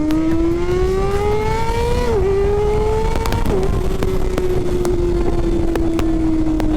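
A Kawasaki ZX6R motorcycle engine revs loud and close, its pitch climbing steadily, dipping briefly at each throttle change, then holding a high, sustained whine with no talking over it.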